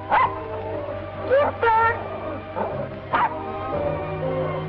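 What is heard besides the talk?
dog barking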